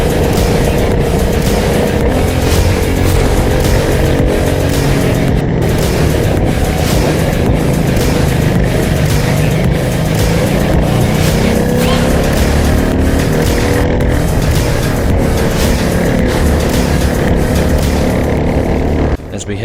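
A racing go-kart engine drones loud and close as the kart runs around the Warwick kart track in an endurance race, a steady buzzing roar with shifting pitch that barely lets up for the whole stretch.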